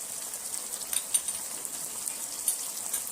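Spices sizzle and fry in a pan for mutton korma, with steady close hiss and a few soft scraping stirs, no voices.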